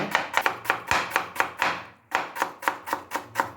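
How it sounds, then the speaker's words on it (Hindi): Onions are chopped finely with a knife on a board in a rapid, even rhythm of sharp, close taps, pausing briefly midway before the steady chopping resumes. "ये प्याज बारीक काट रहे हैं"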